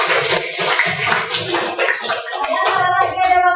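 Classroom applause from a group of students, a steady burst of clapping that fills the whole moment at close range with some voices mixed in.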